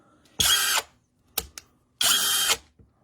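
A DEKO 20V brushless cordless drill driver runs in two loud, close bursts of about half a second each, separated by a couple of quick short trigger blips, with no talking.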